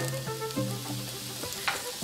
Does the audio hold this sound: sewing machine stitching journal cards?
no